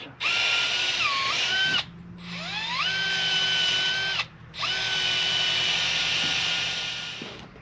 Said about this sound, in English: we're going to use an 1/8" drill